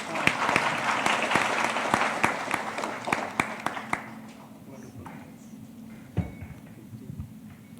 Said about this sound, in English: I would request everyone a big round of applause for Dr. Ishwar Basavareddy.